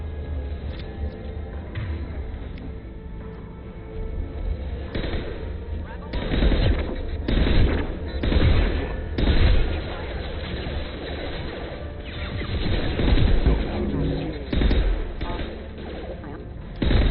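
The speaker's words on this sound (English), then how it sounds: "Firing a high impact shot." Mass Effect 2 combat gunfire: loud bursts of rapid automatic shots and heavy impacts in rolling volleys, with a constant battle din and voices speaking over it.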